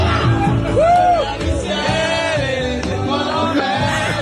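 A crowd sings and cheers along with a played-back karaoke recording, loud, steady voices blending over the music for the whole stretch.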